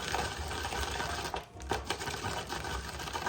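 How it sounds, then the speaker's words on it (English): Peanuts being ground in a small grinder, a dense rattling buzz that runs close and steady, dips briefly in the middle, then resumes, with no talk. "I'm gonna grind up some peanuts."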